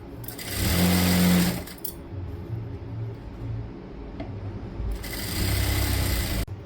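A sewing machine stitches the seat seam of a Kashmiri palazzo in two loud, steady runs, the first lasting about two seconds and the second about one and a half, separated by a quieter stretch with faint motor hum.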